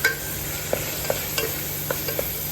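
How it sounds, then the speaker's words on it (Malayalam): Green chillies and curry leaves sautéing in hot oil for a Kerala-style egg kurma, a steady close sizzle broken by a handful of light spoon scrapes and stirs at irregular intervals. "ഇത് രണ്ടും നമുക്ക് ഇതിനകത്തേക്ക് ഇട്ട് കൊടുക്കാം. വഴന്ന് വെക്കാം."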